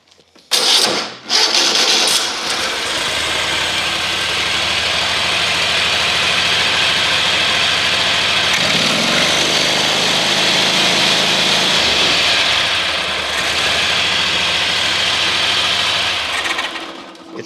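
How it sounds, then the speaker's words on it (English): A zero turn mower's small engine runs loud and steady with a ratcheting mechanical chatter, then dies away when the key is shut off. "Now I shut the key off and it killed the motor"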